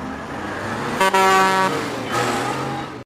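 Cars passing in traffic with an oncoming truck, a loud rumbling roadway wash broken by a strong sustained horn blast near the middle and a fainter second tone afterward.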